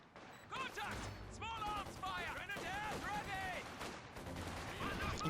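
Machine gun fire and battle effects from a Company of Heroes 2 1v1 match, with sustained bursts running under near-continuous commentary talk.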